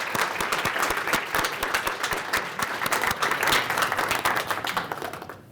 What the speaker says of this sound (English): let's give one more round of applause to all of our BS graduates